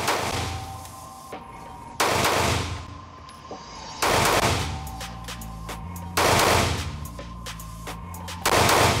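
Taurus G2C pistol fired at a shooting range, with four loud, sharp reports spaced about two seconds apart, each followed by a fading echo.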